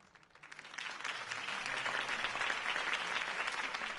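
A video game crowd breaks into applause, building quickly from a few claps into sustained, even clapping that continues to the end.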